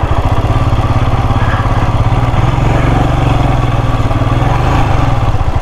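A motorcycle stuck in deep mud on a rough mountain road in Arunachal Pradesh chugs loudly and close, its engine thumping in a fast steady pulse with no voices over it.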